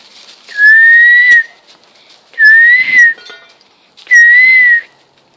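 Three loud, sustained human whistles, each held for about a second and rising slightly in pitch, sound close by and evenly spaced, with faint clinks between them.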